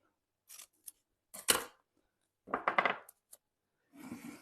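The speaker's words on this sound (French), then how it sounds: "je vais juste aller chercher mon ciseau" Scissors snipping in a few short, crisp bursts, close and quiet, separated by silent gaps, with a soft rustle at the end.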